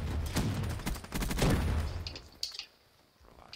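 Dense bursts of rapid gunfire from a Call of Duty Black Ops multiplayer match, loud and close for about two seconds, then tapering to scattered shots and quieter game sounds.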